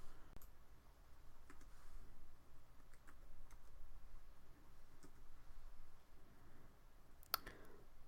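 Quiet keystrokes on a computer keyboard while entering an AutoCAD units command, scattered clicks in short bursts with a sharper tap near the end over faint background hiss.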